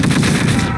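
Rapid gunfire from a weapon in Call of Duty: World at War, a dense burst of repeated shots filling the short moment at close range and high volume, with no talking.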